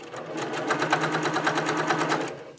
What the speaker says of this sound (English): You're going to sew 1/4-inch seam allowance with the right sides together